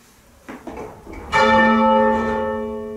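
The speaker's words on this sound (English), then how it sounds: "Each bell in the tower is recorded in turn until all bells are captured." A single large church tower bell strikes loudly and rings on with a long, shimmering decay, preceded by faint creaks and knocks.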